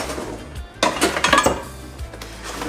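Caraway ceramic cookware being unpacked and handled, a saucepan set down among other pans, giving a few light clinks and knocks with a cluster of sharper metallic taps in the middle, near and fairly loud, with no talking.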